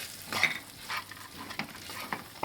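Cashews and raisins roasting in a pan, quiet scraping stirs recurring every half second or so over a faint sizzle, with no talking.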